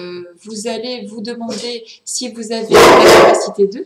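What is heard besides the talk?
dog barking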